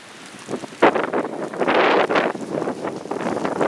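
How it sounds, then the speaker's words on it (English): Gusty wind buffeting the microphone during a spring snowstorm at a cattle farm, surging in loud irregular bursts that rise and fall over a few seconds, with no voices. "She is blustery out. It is snowy and blowy."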